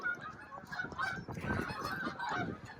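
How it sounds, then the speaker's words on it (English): A flock of geese flies overhead, honking in a continuous, moderately loud chorus of calls over outdoor noise. "We got some geese flying overhead."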